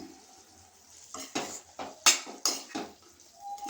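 A metal spoon stirs ridge gourd curry in a pan, scraping and knocking against the cookware in a handful of sharp, irregular clanks over a soft sizzle.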